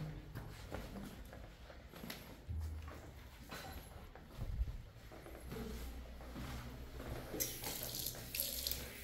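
Water runs from a tap in a steady, faint, trickling flow with soft clatters and background noise around it, at a hotel under construction in Zanzibar.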